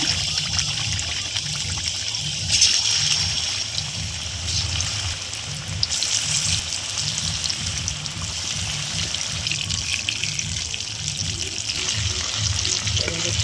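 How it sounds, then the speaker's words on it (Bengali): Chicken pieces for chicken pakora deep-fry in oil, giving a bubbling, crackling sizzle at close range that holds steady and swells briefly now and then. "চিকেনগুলো আমরা ভেজে নেব।"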